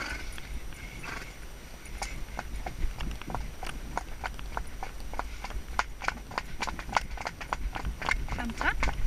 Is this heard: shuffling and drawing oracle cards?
no